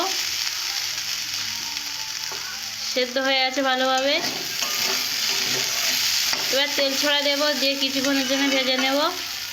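Small round potato pieces fry in a pan with a loud, constant sizzle, while a wavering tonal, melodic sound rises over it twice.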